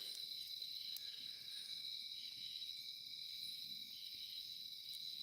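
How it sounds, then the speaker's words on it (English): Crickets chirp in a steady, high, continuous drone at night in woods, faint and even throughout with no voices. "all the frogs and the crickets that were singing"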